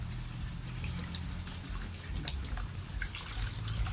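Water trickles and splashes as it pours into a pot of Northern Thai curry of gymnema leaves with dried fish. The pour is a steady, fairly quiet, continuous stream with no talking.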